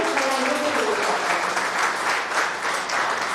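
Steady, full applause from an audience at the Saraswati Magazine re-launch event in October 2020, continuous and even throughout with no pauses.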